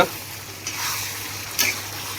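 Paneer masala frying and being stirred in a pan, a steady close sizzle with two sharper scraping stirs of the spoon, no voices.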